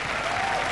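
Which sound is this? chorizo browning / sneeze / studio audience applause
studio audience applause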